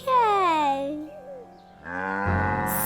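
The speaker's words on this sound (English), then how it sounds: "Should we show the cow, Wolly?" A cow gives a long, loud, sliding moo up close, then a second lower moo follows, with a voice faintly present.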